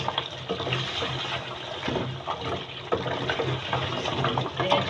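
Water pours steadily into a pot of mutton paya (goat trotters) being fried with potatoes, a continuous close splashing wash with no talk.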